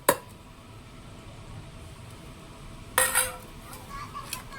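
Chilies and ginger are tipped into a bowl for bhajiya batter, giving a sharp clink at the start and another clatter of utensil against dish midway, with faint light rustling between.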